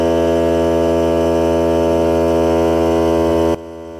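A Hart cordless air compressor runs with a loud, steady droning hum that holds evenly for several seconds before cutting out abruptly near the end.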